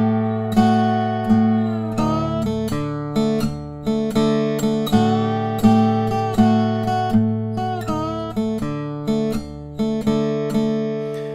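Slide guitar in open D tuning, such as a weissenborn, dobro or lap steel, plays a four-bar intro, with steady plucked notes, sliding pitches and a ringing drone, heard alone and fairly loud.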